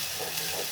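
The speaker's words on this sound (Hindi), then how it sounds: "तो ये सारा मैंने इसमें डाल दिया है और इसको अब हम करने लगे हैं अच्छे तरीके से फ्राई।" Freshly pounded ground masala fries in a pan with a brief, steady hiss close by. No one talks over it.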